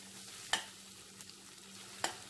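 Ginger pieces fry in a pan for beef pickle, giving a low steady sizzle broken by two sharp spoon scrapes against the pan, with no voices.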